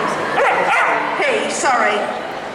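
A golden retriever poodle cross dog barks and yips in short, close bursts at a pet show agility demonstration, with rising and falling whiny tones between them.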